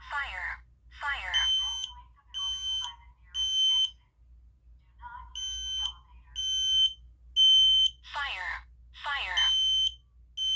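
A fire alarm system under test sounds in repeated bursts of shrill electronic beeping, alternating with a recorded voice evacuation message. Loud and close, over a low steady hum.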